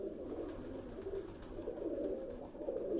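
Pigeons coo softly in a loft, a low, steady murmur of overlapping calls with no talk.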